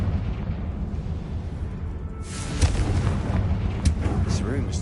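A Confringo fire-spell explosion in Hogwarts Legacy, with a rumbling background that breaks into a loud burst followed by crackling debris and a second sharp blast, close and heavy, with a voice speaking in the clip.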